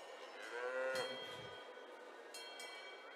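A mountain dairy cow in a livestock show ring lets out one long, loud moo close by, rising and then fading, followed by quieter ambient noise with no talking.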